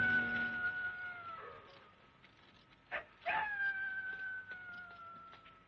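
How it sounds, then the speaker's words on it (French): A dog heard in a long single-take film scene, producing sustained howling whines with a couple of sharp bark-like bursts in the middle, moderately distant and fairly quiet. "Un chien qui aboie."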